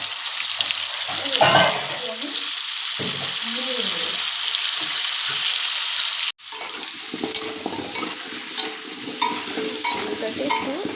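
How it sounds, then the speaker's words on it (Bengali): Steady broadband sizzle of potatoes frying in a pan, continuous throughout with brief clinks and faint voices underneath, one short break midway. "চলো আলুটা ভাজা হোক"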